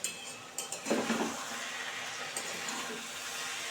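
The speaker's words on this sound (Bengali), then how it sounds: "একটু খুলে দেখি কেমন হলো একটু নেড়ে দিই" Tengra fish curry stirred in a pot after the lid is lifted: a few close clatters of the lid and spoon, then soft scraping and a steady simmering hiss, with no talking.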